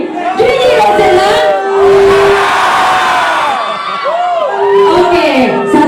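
A packed club crowd at Sound Stage in Johor shouts a DJ's name in unison during a live DJ set, loud, close, overlapping voices rising and falling in repeated chanted bursts.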